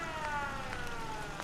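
Settlement alarm siren in the Fallout 4 video game, a continuous steady tonal wail with stacked harmonics, held at even volume with faint game sounds beneath.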